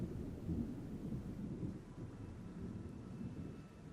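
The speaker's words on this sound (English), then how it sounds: "Ah, the wonderful sound of a sea storm." A sea storm in the Total War video game, with a steady low rumble of thunder and dense rain hissing continuously, fairly faint and without talk.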